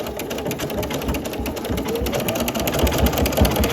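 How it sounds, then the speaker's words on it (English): A sewing machine running steadily with a side cutter attachment, its rapid needle rhythm a continuous close mechanical whir for several seconds, with no talking. "we start sewing."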